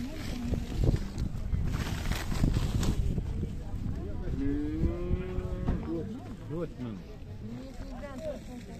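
Cattle lowing at a busy livestock market, several close moos rising and falling amid crowd chatter and people talking throughout.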